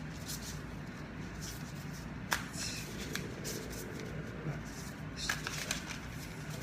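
Tarot cards being shuffled again and again, a soft continuous papery riffling with a couple of sharper snaps, close by and fairly quiet.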